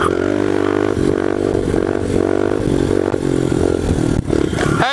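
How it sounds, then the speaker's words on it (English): A pit bike's small engine revs hard and steady through a fourth-gear wheelie, a loud, continuous buzzing drone with a brief dip near the end. "Hey, I can do 4th gear wheelies."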